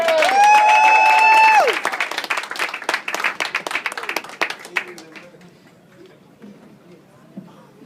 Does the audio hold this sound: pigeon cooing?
no